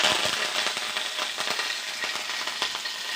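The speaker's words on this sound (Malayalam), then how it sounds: "എണ്ണ ഒഴിച്ചാൽ നമുക്ക് കുറച്ച് കടുക്, 2 കരിവേപ്പില ഇടാം" Mustard seeds and curry leaves hit hot oil for a raw banana stir-fry, making a continuous close sizzle peppered with rapid, irregular little pops and crackles.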